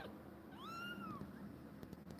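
A kitten gives one clear rising-then-falling meow, close but quiet, with a few small rustles afterward in a calm room.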